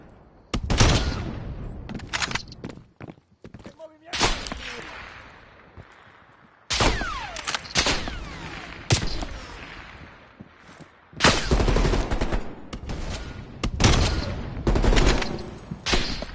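Heavy gunfire rages in a Call of Duty Black Ops Cold War battle, with repeated loud bursts of automatic fire and volleys separated by brief lulls, mixed with shouting voices.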